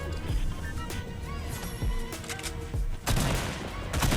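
Gunfire in the video game Fortnite: dense bursts of rapid shots and sharp cracks, with a heavier, louder volley near the end. The shots are layered over steady game background noise.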